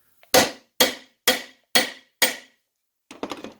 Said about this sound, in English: tap on the end of the top end of the puller